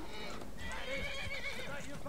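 A horse in the video game Skyrim whinnies loudly while fighting a guard, with clip-clopping hooves and game noise beneath, and a voice talking over it.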